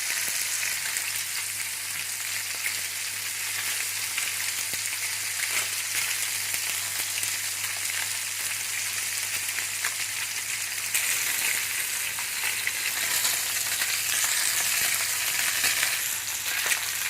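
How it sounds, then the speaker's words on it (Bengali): Salmon fish sizzling steadily as it fries in a pan, a dense continuous crackle with a low hum underneath, growing slightly louder partway through, with no talking. "আমরা 2 থেকে 3 মিনিট ম্যাক্সিমাম এটাকে ভেজে নেবো"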